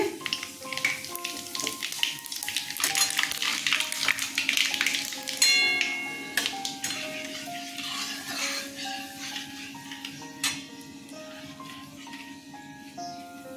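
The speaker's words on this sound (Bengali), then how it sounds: "তেলটা গরম হয়ে গেছে, লঙ্কা দুটো দিয়ে দিলাম। আর এগুলো সব ফোড়নে দিয়ে দিচ্ছি।" Two chillies and whole tempering spices hit hot mustard oil for a sweet raw-mango pickle, giving a loud, steady crackling sizzle throughout, with a brighter burst of spitting around the middle and occasional metallic taps.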